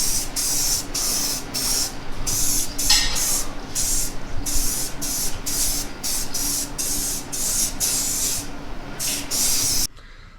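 Repeated short bursts of an aerosol spray can coating a MetalCloak differential cover for a Bronco with primer and then paint, a steady hiss in rhythmic pulses up close, stopping near the end.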